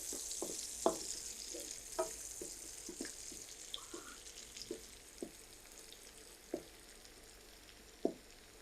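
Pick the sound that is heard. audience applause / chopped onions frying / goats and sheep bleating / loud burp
chopped onions frying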